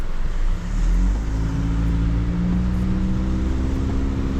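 Busy road traffic in the rain in Grand Cayman after a hurricane passed, a steady broadband wash of tyres hissing on wet pavement with low engine rumble from passing cars, continuous and fairly close with no talking.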